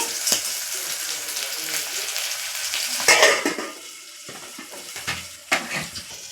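Vegetables for upma fry in oil in a pan, giving a steady close sizzle with louder bursts of stirring, spatula scrapes and clinks against the metal.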